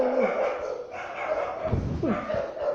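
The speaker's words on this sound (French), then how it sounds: "Excusez-moi pour le bruit de chien par dehors." A dog barks and yips several times from a distance, the sounds uneven and somewhat muffled, mixed with faint background noise.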